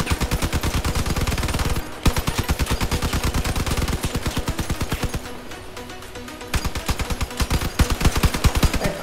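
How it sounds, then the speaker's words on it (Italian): Rapid automatic gunfire pounds a vehicle cabin in Crossout, a dense, loud rhythmic stream of shots with a few short pauses and bursts, with no voices. "Ora proviamo a sparare alla cabina per vedere quanto resiste."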